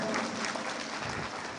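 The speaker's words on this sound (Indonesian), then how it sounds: "Tepuk tangan dulu untuk UNU" An audience claps for a university at a live religious gathering and sermon, a dense, steady wash of many hands applauding throughout.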